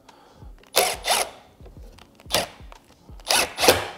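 A power drill drives screws into wooden camper bed parts in four short bursts, two close together at first and two more later, each a loud whining spin with quiet pauses between.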